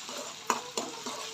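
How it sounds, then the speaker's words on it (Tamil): Pongal bubbling in a cooking pot, with a few soft, distinct pops and gurgles rising over a quiet, low simmer, close and faint. "பாருங்க பாய்ஸ் எப்படி பபிள்ஸ் ஆகுது"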